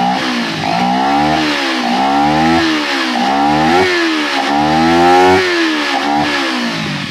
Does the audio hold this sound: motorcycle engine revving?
yes